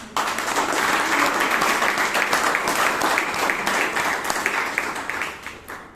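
Members at a Toastmasters meeting in Bangalore give a round of applause, dense steady clapping from a room of people that tapers off near the end.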